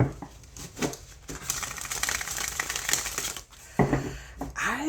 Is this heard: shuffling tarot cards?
yes